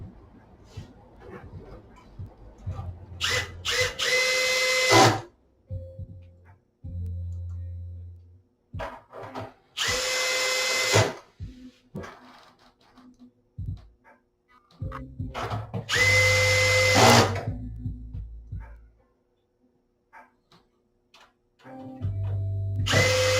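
A power drill drives screws back into brackets on a Derby Owners Club arcade machine main board, loud whirring bursts of a few seconds each separated by pauses and low clunks of handling.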